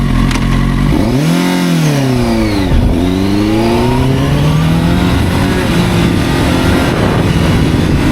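A CFMOTO 750SR motorcycle engine revs and accelerates up close, loud and continuous, its pitch climbing through the gears with a brief drop at a shift partway through, and no talking.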